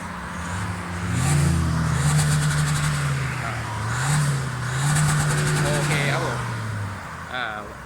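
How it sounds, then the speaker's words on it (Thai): An Isuzu Blue Power 1.9 engine on its stock exhaust is blipped twice, the throttle swelling and easing back in a deep rumbling drone before settling, with a brief voice near the end. "อ้าวเบิ้ลครับท่อเดิมครับ"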